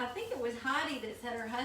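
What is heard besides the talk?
None of the usual background noises is heard.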